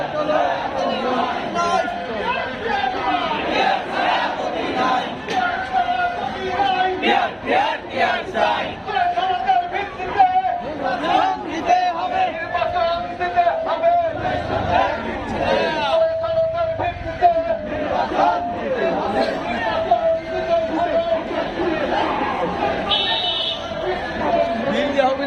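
A street protest march and rally in Kushtia, Bangladesh, where a crowd chants slogans in rhythmic call-and-response, loud and close, with a leader's voice cutting through the massed shouting throughout.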